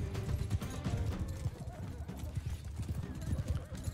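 Horse hooves clatter in the medieval combat game Mount & Blade 2: Bannerlord, a busy galloping clip-clop rhythm under a muffled battle mix with voices murmuring.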